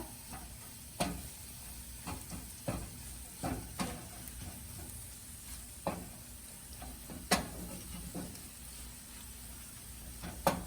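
Egg fries in oil in a pan for egg fried rice, a steady low sizzle and hiss at close range broken by occasional clicks and taps of a spatula, with no voices.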